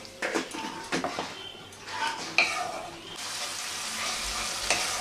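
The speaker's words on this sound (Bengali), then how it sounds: "মশলাটাকে আগে কষিয়ে নেব।" Bengali spice paste with chili powder and a splash of water is stirred in a hot pan for ol (elephant foot yam) dalna: a run of close spatula scrapes and clacks, then a steady sizzle.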